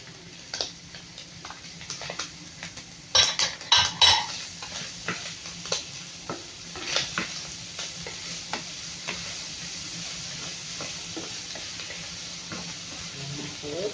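Pancit canton noodles are stirred in a hot pan, with soft sizzling under scattered scrapes and clinks of a utensil against metal, a brief cluster of louder knocks early on.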